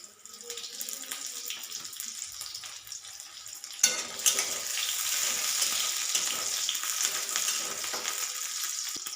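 Garlic frying in a pan over high gas heat, a steady broadband sizzle that jumps louder about four seconds in as more hits the oil, then holds a dense crackling hiss to the end, with no talking.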